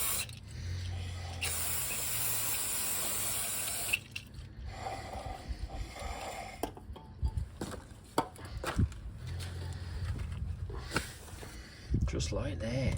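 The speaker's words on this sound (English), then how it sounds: "My favourite stuff, brake cleaner. Give that a good clean." Brake cleaner is sprayed on the front brakes of a Sunbeam Alpine: a steady hissing blast of a couple of seconds, followed by quieter clicks, clatter and handling noises nearby.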